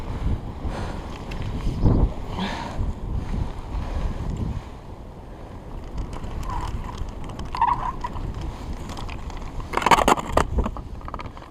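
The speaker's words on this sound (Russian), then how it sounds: "Ветер просто, ребята, сносит все." Strong wind blowing across a bay on a pike fishing trip, rough gusts buffeting the microphone with low rumbling bursts that swell and fade, and no talk over it.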